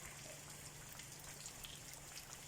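Heavy rain falls in Xiangkhouang, Laos, in June, making a steady, even hiss of many drops and water on surfaces that holds constant throughout, with no talking.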